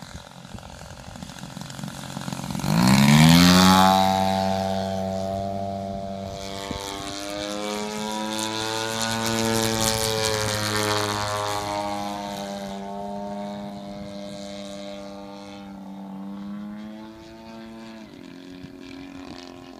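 A Hangar 9 Extra 300 radio-controlled model airplane roars past nearby, its propeller engine whine swelling loudly, sustaining through a climb with shifting pitch, then easing away outdoors.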